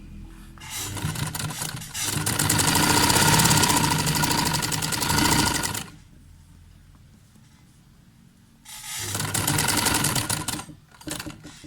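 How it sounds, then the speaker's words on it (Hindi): Sewing machine stitching a square and V-shaped mixed neckline, running loud and steady in two bursts separated by a quiet pause. "अब मशीन से तैयार करते हैं। ये देखें, बिल्कुल एक पॉइंट पे अंदर के सिरे पे पहले सिलाई लगेगी,"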